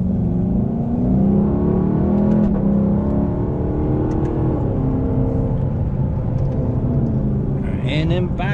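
A rare JDM muscle car on its stock exhaust hums and builds through a smooth rev, the engine note rising and settling in a steady nearby drone while a person talks over it.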